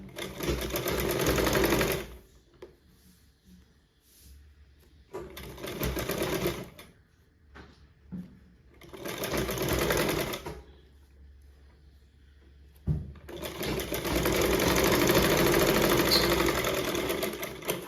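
A sewing machine stitches piping onto cotton fabric in loud, steady whirring runs, starting and stopping several times with short quiet pauses between bursts, the last run the longest.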